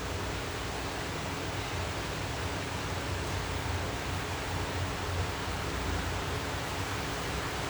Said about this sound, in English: If you can hear the sound of the rain in the background